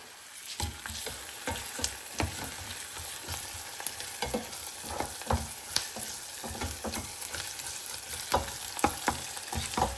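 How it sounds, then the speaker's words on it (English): Onions brown in a frying pan at a mountain campsite with a continuous close sizzle and repeated scraping stirs throughout, and no voices. "So I'm browning my onions here."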